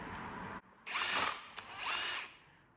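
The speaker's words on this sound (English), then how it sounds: "Switch to number 2 on the drill, which I just did." A power drill mixing epoxy concrete floor coating whirs loudly in two sustained runs separated by a brief pause, its motor buzzing steadily as it churns.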